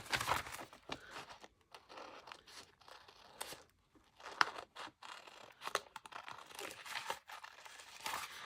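Paper from a thrifted wall mural being cut with scissors around a bunny image, giving close, soft snips, crinkles and tearing rustles in irregular bursts, with a sharper crisp snip near the middle.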